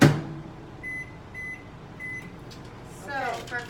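A microwave oven heating rice hums steadily, with three short electronic beeps partway through. Voices can be heard near the start and end.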